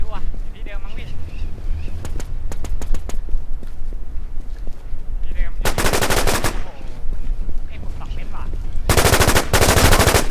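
Automatic and single gunshots crack out in the online shooter War Inc, coming in sharp, loud bursts with a heavy sustained burst of fire near the middle and another near the end, while a player's voice talks underneath.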